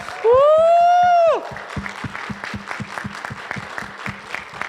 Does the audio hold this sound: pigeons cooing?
no